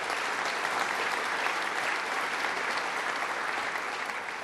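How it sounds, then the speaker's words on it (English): An audience at a government announcement event in Rome, New York applauds, a steady wash of clapping hands that stays loud throughout, with no break and no speech over it. "Give her a round of applause."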